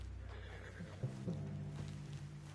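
A horse in the Red Dead Redemption 2 video game gives a low, faint whinny and snort amid quiet game ambience, with no talking heard.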